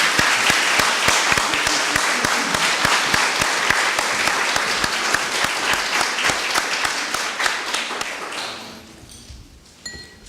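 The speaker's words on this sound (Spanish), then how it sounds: "pedirles a todos un aplauso para los 3 expositores" An audience applauds three panel speakers at a conference on gender inequality gaps, dense steady clapping that fills the room for about eight seconds before thinning out and fading into a few scattered claps.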